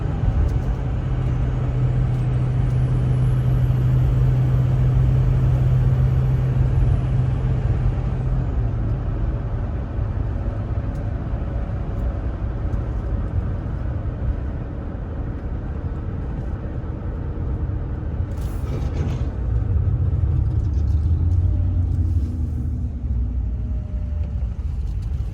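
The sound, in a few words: car driving down the road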